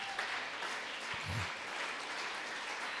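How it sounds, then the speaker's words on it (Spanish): Sustained applause from a church congregation during a Spanish-language service, broad steady clapping filling the space for several seconds with a brief low thump near the middle. "Dele un aplauso al Señor,"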